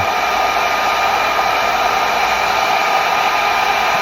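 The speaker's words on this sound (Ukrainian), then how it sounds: "Включаю на одиничку і відповідно сушу" Hair dryer running steadily on its low setting, drying a child's long curly hair at home; a loud, even, continuous airflow whoosh with no breaks and no talking.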